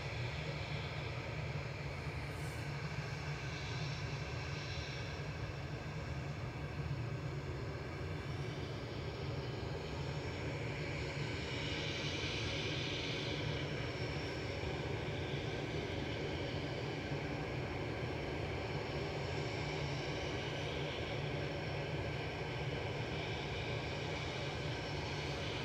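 Aer Lingus and Virgin airliners taxiing at Manchester Airport, heard as a constant low jet-engine rumble and hiss that holds steady throughout, at a moderate distance with no voices.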